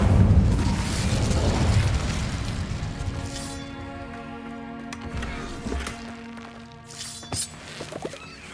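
An Incendio fire spell cast in Hogwarts Legacy: a heavy, whooshing burst of fiery blast opens loud and close, then decays into a lingering rumble with scattered crackles and smaller impacts, with no talking.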